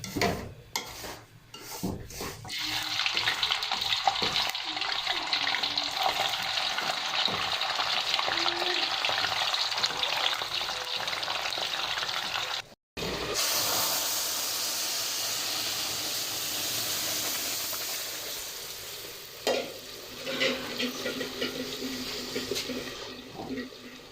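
Semolina halwa cooks in a pan, a steady sizzling and scraping stir that runs continuously, briefly cuts out, then resumes close up.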